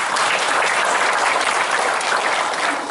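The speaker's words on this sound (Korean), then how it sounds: "박수 크게 한번" A crowd at a Chamber of Commerce Day breakfast gathering in Gumi applauds in a dense, steady wash of clapping that holds at an even loudness throughout.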